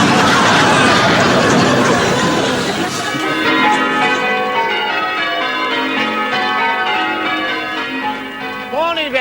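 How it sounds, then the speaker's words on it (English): Church bells ring out, loud and resonant, with overlapping tolls ringing on and decaying, preceded by a noisy burst of crowd chatter and laughter at the start. "Nice to hear the bells again."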